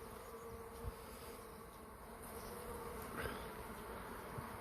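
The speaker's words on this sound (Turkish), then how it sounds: "bu sondaki petekte de bak bu kadar arı var" A steady, dense drone of many honeybees buzzing together in a hive, continuous and close, with a few brief louder bumps.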